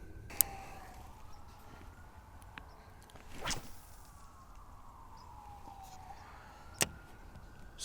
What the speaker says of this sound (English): So with the sirens in the background